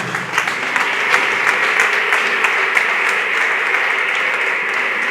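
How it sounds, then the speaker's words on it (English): Sustained applause from an audience, a dense steady clapping that holds at an even level throughout. "Please continue to clap until she gets here."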